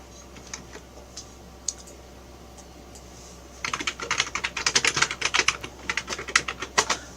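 Keys on a computer keyboard: a few sparse clicks at first, then a fast, loud burst of close typing that ends with a keystroke like pressing Enter, with no one speaking.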